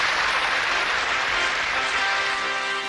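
A crowd applauds to welcome a sculptor in a Hindi cartoon, steady dense clapping that fills the whole moment at an even, sustained level without breaks.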